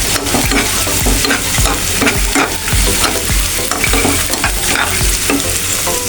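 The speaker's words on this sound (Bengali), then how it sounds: "এখন পেঁয়াজটা ভেজে নেব।" Onions frying in a pan, with steady sizzling and repeated scraping strokes of a spatula stirring them, close and loud with no talk.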